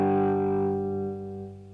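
Electric guitar chord played through a tube amp's high-gain channel, loud and heavily distorted, ringing out alone and slowly decaying over about two seconds.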